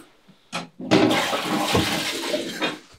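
A toilet flushes in an abandoned hotel: a short clunk of the handle, then a loud, close rush of water that gurgles and drains away over a couple of seconds.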